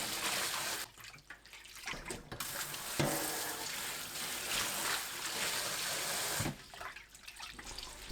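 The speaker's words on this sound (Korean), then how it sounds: "찬물에 두세 번 헹굽니다" Blanched green onions rinsed in cold water, with a steady splashing flow from a running tap and stirring in a sink, water noise continuous and close with brief louder gushes.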